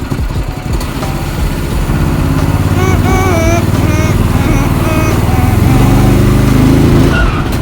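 A VW bus engine revs loudly under throttle while the vehicle is driven, a steady rough engine roar lasting the whole stretch with voices faintly mixed in.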